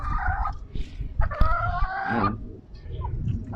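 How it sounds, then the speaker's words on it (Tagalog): Chickens clucking and squawking nearby, with a short crow-like call in the middle, over a low rustling background. "Yung mga manok na to."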